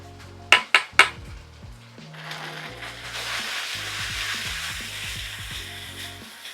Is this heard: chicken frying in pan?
yes